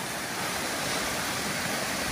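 A waterfall in the Cheviot Hills of Northumberland rushes with a dense, steady roar, close and loud, pouring around a large boulder with no voices heard.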